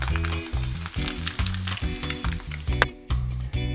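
Butter sizzles in a pan for a whitebait fritter with a close, steady hiss, while a low, rhythmic hum pulses under it and a brief clatter sounds near the end.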